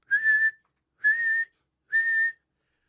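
Three short, evenly spaced whistle blasts sound close and clear, each a steady shrill tone of about half a second with brief pauses between, used as a distress signal while kayak fishing.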